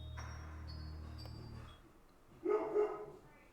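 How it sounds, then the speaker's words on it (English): Dogs bark in the background during a livestream of a Beacon Pines game, a short burst of two or three muffled barks late in the clip after a steady low hum with game sounds. "I just switched back and there was barking again"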